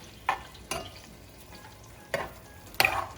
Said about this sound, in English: Just want to make sure that the onions get simmered a little bit.